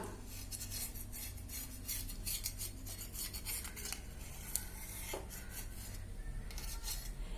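A utensil scrapes and rubs around the sides of a tray of set wheat and jaggery halwa to loosen it, making continuous close scratching with a few sharper clicks.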